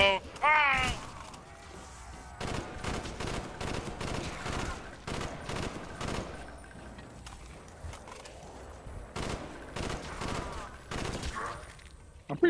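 Rapid video game gunfire in Call of Duty Black Ops, sharp repeated shots in quick bursts with gaps between, loud and close, mixed with game effects and occasional voices.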